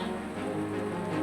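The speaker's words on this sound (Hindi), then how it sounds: "जब बारिश की पहली बूंद धरती पर गिरती है" Steady rain falls on dry farm ground, a dense, even hiss with soft patter, continuous and fairly quiet over the short stretch with no voices.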